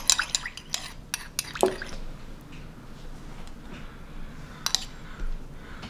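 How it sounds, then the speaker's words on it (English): Soy sauce and sesame oil being stirred over pieces of chicken for Hainanese chicken rice, giving soft wet squishes and light clinks of a utensil against a dish, close and fairly quiet with brief louder taps. "Right, and then just stir it up."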